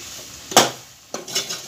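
Mutton rakti being stirred in a pan, with two distinct bursts of scraping and sizzling as the spoon moves through the thickening mixture, close and fairly loud with quieter frying between strokes.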